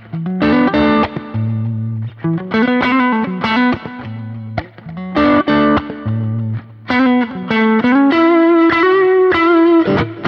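Stratocaster electric guitar run through a Kemper with a studio equalizer engaged, playing distorted riffs of choppy low chugs and higher sustained notes, loud and unaccompanied by voices.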